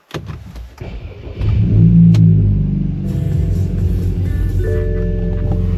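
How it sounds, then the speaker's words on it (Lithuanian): A BMW F10 with M Pack and a freshly replaced engine starts up from the driver's seat, a thump and crank giving way to a steady, loud idle rumble without rattle, with a faint chime later. "F-kutė jau dirba be jokių kalenimų."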